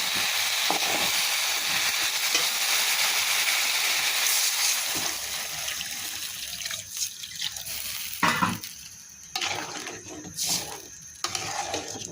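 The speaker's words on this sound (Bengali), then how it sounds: "এবার সিদ্ধ জন্য পানি দিয়ে দেবো" Water is poured into a taro and prawn curry to boil it, a steady close splashing and running wash that then breaks into scattered clinks and stirring noises.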